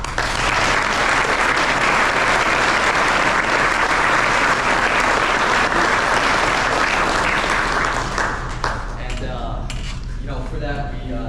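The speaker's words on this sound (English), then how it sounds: "give them another round of applause for all the things that they do" Sustained, loud audience applause fills a gymnasium-style hall at an end-of-season sports awards night for varsity players, steady for most of the stretch and then thinning into scattered claps and faint voices near the end.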